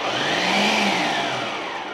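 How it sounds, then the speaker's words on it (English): A blender pulses roasted cauliflower, its motor whining up in a loud, steady burst that swells and then eases slightly toward the end. "So now our cauliflower is in, we are going to mash it in the blender."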